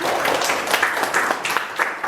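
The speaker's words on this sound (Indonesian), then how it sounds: "tepuk tangan untuk teman kalian" Classmates applaud in a polytechnic classroom during a teaching session: a steady wash of many hands clapping for about two seconds, fairly close and lively, with faint voices mixed in.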